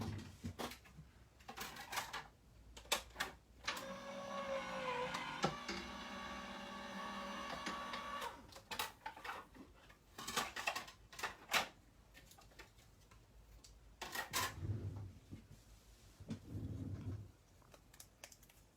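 Die-cutting machine running a crafting card through for a criss-cross pocket card, a mechanical rolling hum lasting a few seconds, with scattered clicks and handling clatter before and after, close and fairly quiet.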